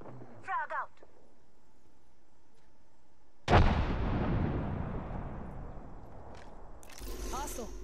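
Frag grenade in a video game detonating with one sudden heavy boom that rolls out into a long fading rumble, preceded by short voice callouts and followed by more voice chatter near the end.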